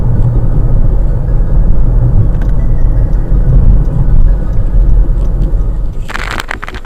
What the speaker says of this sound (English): The car is driving absolutely straight, perfectly balanced.